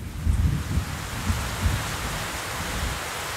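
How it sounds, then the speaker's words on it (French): Steady rain falls in a dense, even hiss, with low rumbling gusts or distant thunder-like swells early on; no voices. "La pluie, c'est vraiment la pire des surprises."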